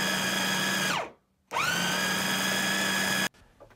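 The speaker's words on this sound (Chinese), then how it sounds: "然后把切好的肉块放入绞肉机里" An electric meat grinder minces pork with a loud, steady high whine that winds down, stops for half a second, then starts again and runs evenly before cutting off, close up with no speech.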